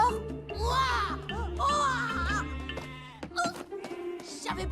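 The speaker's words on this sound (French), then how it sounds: "Je savais pas qu'on élevait aussi des moutons ici." Sheep bleat in a wavering, drawn-out cry that repeats and overlaps, close and fairly loud, with a few short voice-like sounds near the end.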